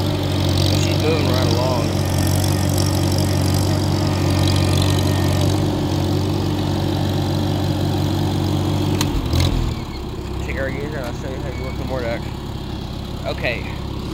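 A Farmall C tractor engine runs at high revs in third gear, a loud, steady, even drone that holds for about nine seconds before dropping off sharply to a quieter idle while someone talks.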